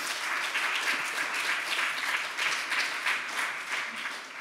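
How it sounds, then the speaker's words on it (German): An audience at a forum panel on memory gives a round of steady applause, a dense and even clapping wash heard alone. "Also eine Runde Applaus für diese ganzen Teams."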